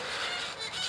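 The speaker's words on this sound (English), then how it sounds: "that's baby galahs demanding to be fed above us" Harsh, raspy squawking of baby galahs begging to be fed overhead, loud and continuous, with no voices.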